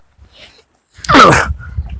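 Dogs at a tribal colony in the Achankovil forest area make a brief burst of barking and yelping, loud and close, following a quieter stretch of faint rustling.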